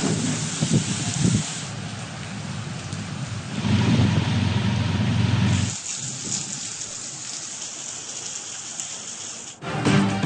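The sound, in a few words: heavy monsoon rain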